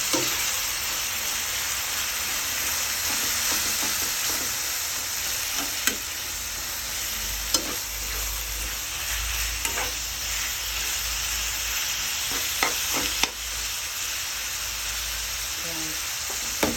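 Ground pork giniling simmers in sauce in a pan, giving a continuous close sizzle with occasional clicks and scrapes of stirring across a long stretch and no clear speech.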